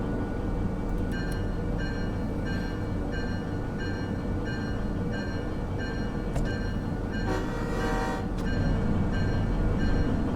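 A locomotive rumbles steadily in the Derail Valley train simulator game, with a continuous low engine drone and repeated short tonal beeps over it.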